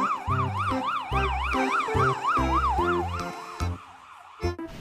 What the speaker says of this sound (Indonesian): Wow, ini mobil ambulan teman-teman.